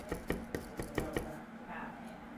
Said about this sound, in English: 3 cloves of garlic, roughly chopped.